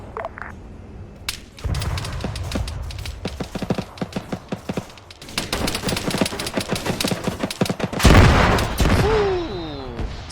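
BTR-40 armored car firing during a video game battle on the road into Kolechia, heard as rapid bursts of automatic gunfire, dense and loud, with a heavier blast near the end.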